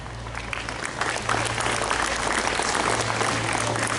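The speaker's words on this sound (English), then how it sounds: "This deserves an applause." A crowd claps steadily throughout, a dense wash of applause that swells slightly partway through, over a low background hum.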